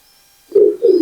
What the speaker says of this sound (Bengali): এটা টেডি নর।